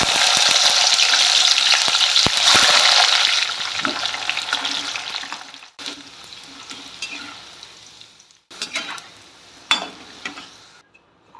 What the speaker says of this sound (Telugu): నూనె వేడెక్కింది, ముక్కలు ఫ్రై చేసుకుందాం